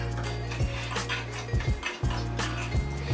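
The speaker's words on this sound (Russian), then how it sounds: "И размешиваем." Brown sugar and cinnamon stirred in a bowl, a spoon scraping and clinking against the sides in a quick, repeated rhythm, close and fairly loud.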